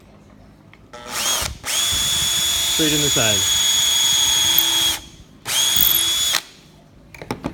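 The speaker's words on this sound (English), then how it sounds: "So what I'm gonna do is I'm gonna drill a hole right here" A power drill bores a hole in lumber, whirring in one long sustained burst and then a shorter one, loud and close, with brief speech over it.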